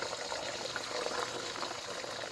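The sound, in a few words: eggs going into a hot oiled wok for fried rice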